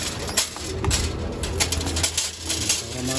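Pigeons cooing at a loft trapdoor, soft repeated coos with light rustling and fluttering close by, and no talk.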